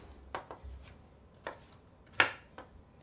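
A knife roughly chopping macadamia nuts on a cutting board gives several sharp, separate chops at an uneven rhythm, with quiet pauses between them and no talk.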